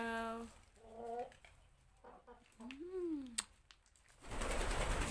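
Backyard chickens in a home garden give short, harmonic clucking calls near the start, then a rising call midway, with people talking over them and a rush of noise at the end.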